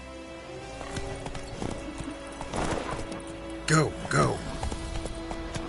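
Hooves of Roach, a horse in The Witcher 3, clop along at a loose rhythm, close by, with a short whinny near the middle while a voice talks over them.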